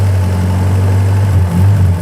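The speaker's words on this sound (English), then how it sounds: "Now, it's only rod knocking a little bit" A 1946 Jeep Flat Fender engine idles with a slight rod knock, a steady low rumble heard close and loud with faint irregular tapping.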